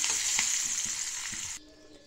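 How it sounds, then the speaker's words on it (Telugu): Cumin, mustard seeds, dried red chilli, asafoetida and curry leaves crackle and sizzle in hot oil in a pan for a coconut and roasted chana dal chutney, a steady loud hiss with small pops that stops abruptly near the end. "ఇదిగోనండి బాండి పెట్టాను ఆయిల్ వేసి జీలకర్ర ఆవాలు ఎండుమిర్చి ఇంగువ కొంచెం తర్వాత పోపు కరివేపాకు ఇవన్నీ వేసి"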